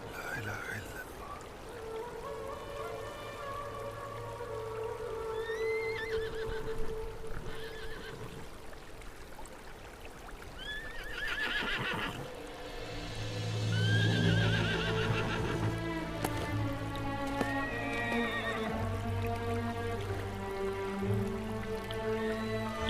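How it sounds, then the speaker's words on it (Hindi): Horse neighing and whinnying several times over a soundtrack with hoofbeats clip-clopping, in a historical drama setting; voices and music run underneath throughout. "ये उस्मान का घोड़ा है, चलो इसका पीछा करें।"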